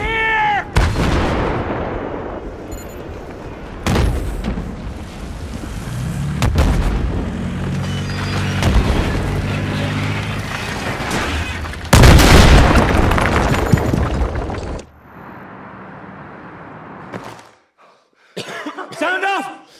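Heavy cannon blasts and explosions from a T-90 tank in the Battlefield 3 mission Operation Guillotine, several loud booms with rumbling aftermath and debris, mixed with shouting and coughing voices and a brief near-silent gap.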